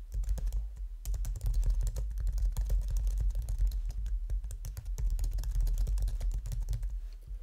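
Rapid clicking keystrokes on a computer keyboard as free text is typed into a text field, close and continuous with brief pauses, no talking.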